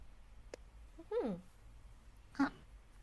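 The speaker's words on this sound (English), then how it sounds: "I have cat with me" A cat's meow, two short faint calls about a second apart in a quiet room, with a faint click before the first.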